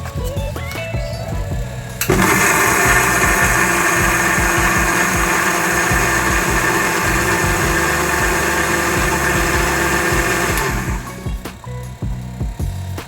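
A kitchen mixer grinder whirs loudly for about nine seconds while blending a spice paste for palak paneer, starting abruptly and cutting off, with a steady high-pitched motor roar over rattling.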